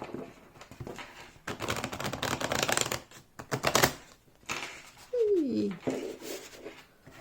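Stiff tarot cards are riffled and shuffled in several quick bursts, crisp and close, separated by short pauses.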